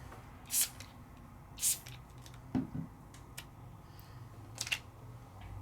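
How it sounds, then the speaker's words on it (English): Two sharp hissing sprays from a spray bottle, followed by a soft thud and a quieter spritz, in a quiet room. "Just a spray of water"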